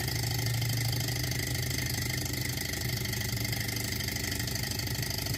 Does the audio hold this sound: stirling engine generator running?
yes